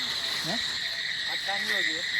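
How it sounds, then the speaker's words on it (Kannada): Frogs croak in a paddy field at night, several short rising calls scattered over a steady chorus of high insect-like trilling, moderately close and without any talk. "ಕಪ್ಪೆ ಮಾತ್ರ ಉಂಟು."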